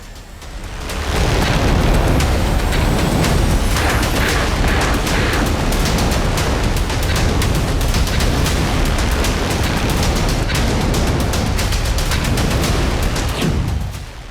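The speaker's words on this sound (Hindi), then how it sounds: "ईरान के कई बड़े ऑयल रिफाइनरी में भयानक बमबारी" Bombing of Iranian oil refineries sends out a loud continuous rumble of blasts and crackling bursts that sustains for over ten seconds and then fades at the end.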